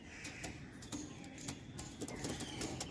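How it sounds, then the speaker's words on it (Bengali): Frightened pigeons in an unfamiliar place flutter in quick, irregular bursts of wingbeats mixed with soft coos, close and fairly quiet. "সব বন্ধুরা, পায়রা ভয় পাচ্ছে প্রচণ্ড পরিমাণে"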